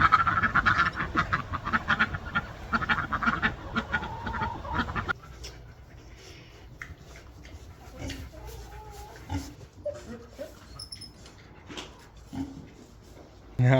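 Pigs grunt and snuffle in a farm pen, with noisy rustling in the first few seconds, then quieter scattered grunts and snorts at close range, while chickens and other barnyard animals add occasional calls.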